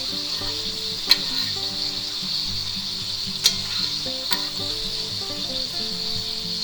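Butter melts and sizzles around a ribeye steak in a hot pan, a steady moderate frying hiss with a few sharp pops, and no one speaks.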